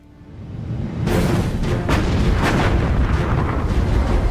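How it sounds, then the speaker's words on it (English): Heavy naval guns of the German battleship Bismarck firing in its battle with HMS Hood, a dense continuous roar of artillery booms that swells after a quiet start and stays loud and sustained. "the massive guns of Hitler's superweapon have obliterated the pride of the British Navy"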